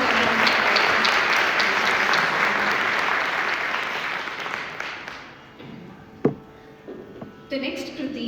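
Audience applause at a Thyagaraja festival Carnatic music concert in Cleveland, loud and dense for about five seconds, then thinning into scattered claps and knocks before a faint closing burst.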